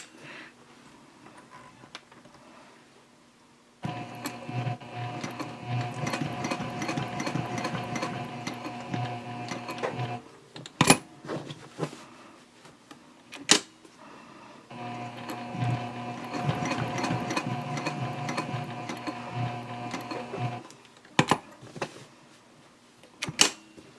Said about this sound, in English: We'll sew down this side.